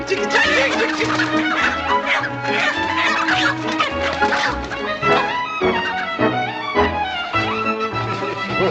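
Chickens cluck busily and continuously, several birds close by, with excited squawks rising and falling throughout.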